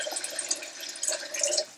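Coconut milk is poured out of a container for a Haitian rice pudding, giving a light, close liquid trickle and splash that rises and falls over a couple of seconds.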